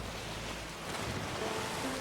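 Rough ocean waves wash continuously around a sailing boat at sea off Skellige in the video game The Witcher 3, with wind in the mix, a steady moderately loud surf texture and no talk.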